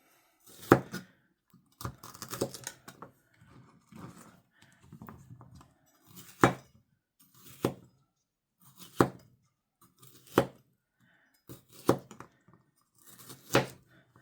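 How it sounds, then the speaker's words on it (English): Seeded chili peppers are sliced into little strips on a board, about a dozen sharp knife chops coming in irregular, spaced strikes, close and clear against a quiet background, with a soft murmur of other handling between cuts. "I'm going to cut them off, starting off with little strips like this"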